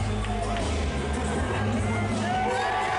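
Wrestling arena crowd roars in a massive pop as a wrestler enters, a dense sustained wall of cheering and whoops filling the whole span, loud and close, with no individual voice standing out.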